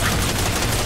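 Rapid gunfire from the video game Metal Gear Solid 4, a dense, continuous burst of shots filling the whole short moment, loud and close with no talking over it.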